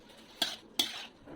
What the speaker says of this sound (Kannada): ಮಂಡಾಳನ್ನು ನಾವೀಗ ಒಗ್ಗರಣೆಯಲ್ಲಿ ಹಾಕಿ ಚೆನ್ನಾಗಿ ಕಲಿಸ್ತಾ ಇದ್ದೀವಿ.